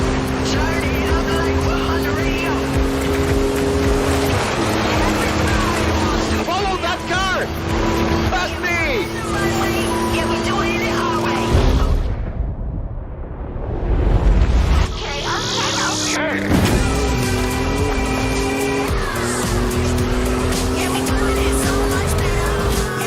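Race cars in the open-world driving game Forza Horizon 5, set in Mexico: loud engines roar and shift gears with tire squeal and skidding, a brief lull, then more revving, while a voice talks over it.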